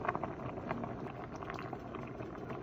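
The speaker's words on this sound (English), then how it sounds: "The cooking of the beans is progressing nicely." A pot of beans for Jamaican vegetarian stew peas boils on the stove with a faint, steady bubbling and simmering that continues evenly throughout, with no talking.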